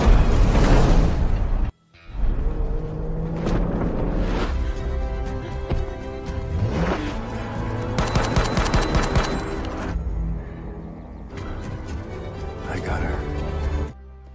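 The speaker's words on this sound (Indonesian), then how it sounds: "mendapatkan hadiah tembakan dari Mike yang menyasar ke bahu Maisie" Gunfire from an action film about a hitman hunted by European assassins, a dense burst of shots and impacts mixed with music and dramatic effects, loud and continuous, with a brief dropout near the start.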